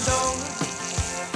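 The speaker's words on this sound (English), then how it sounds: "are you taking a shower?" Running shower water streams in a steady hiss, with a few soft splashy pulses over the short stretch.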